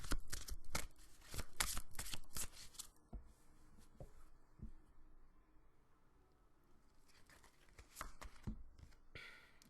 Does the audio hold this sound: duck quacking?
no